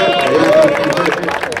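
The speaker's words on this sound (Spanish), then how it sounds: "Un fuerte aplauso a ser el joven Yoro Santos." A crowd applauds and cheers at an awards ceremony for a league tournament's best player, with dense, steady clapping filling the space while a voice talks over it on a loudspeaker.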